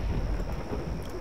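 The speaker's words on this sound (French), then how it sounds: "un magnifique écran blanc qui symbolise le tonnerre" Thunder rumbles in the fantasy role-playing game Neverwinter Nights, a loud low roll with rain hiss across the short stretch.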